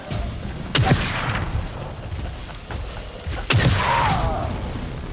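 Two sharp, loud sniper rifle shots ring out in The Evil Within 2 video game, the first about a second in and the second past three seconds, each leaving a short echoing tail over a low, steady game ambience.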